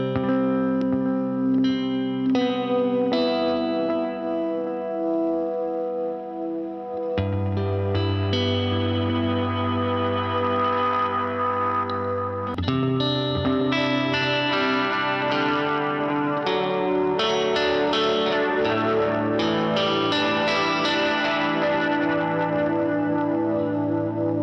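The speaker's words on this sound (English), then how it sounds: "Analog delay. With a dry signal through, so like the unaffected tone that you hear first." Electric guitar played through a pedalboard with analog delay and modulation, ringing chords and single notes trailing into echoing repeats with a wavering chorus shimmer, loud and continuous with no talking.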